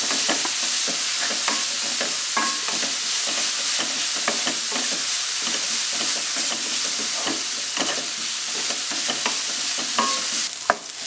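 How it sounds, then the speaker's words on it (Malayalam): Onion, green chilli and ginger sauté in a pan for an idichakka (tender jackfruit) cutlet, giving a steady close sizzle with repeated scraping stir strokes throughout, and no talking. "സവോളയും പച്ചമുളകും ഇഞ്ചിയും ഒന്ന് വഴന്ന് കിട്ടിയിട്ടുണ്ട്"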